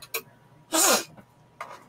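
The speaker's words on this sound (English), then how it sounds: "We went live and you have to blow your nose?" A person blows their nose once, loudly and close by, in a single forceful burst of about a third of a second, with a couple of shorter snorts just before and after in a quiet indoor room.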